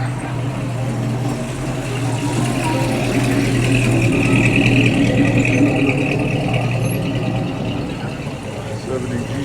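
A 1969 station wagon's engine rumbles past at a classic car cruise, a steady, loud motor drone that swells slightly mid-pass and then eases, with crowd noise and voices mixed in.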